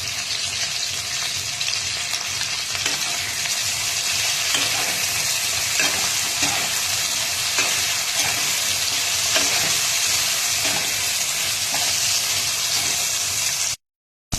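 Tomatoes and green chillies fry in a pan for a cabbage and chicken dish, a steady close sizzle with occasional stirring scrapes, running continuously before cutting off near the end.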